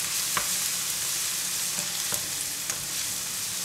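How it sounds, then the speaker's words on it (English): Chopped garlic fries in very hot cooking oil as it is stirred. A dense, steady sizzle runs throughout, with a few soft scrapes of the utensil and no talking. "Once the oil is very hot, add in chopped garlic"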